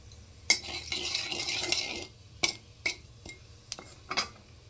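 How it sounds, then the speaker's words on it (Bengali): Nigella seeds temper in hot oil for a katla fish curry: a short crackling sizzle rises and fades, followed by sharp metallic clinks of a utensil against the pan. "তো কালো জিরেটাকে দিয়ে দিচ্ছি ফোড়নে।"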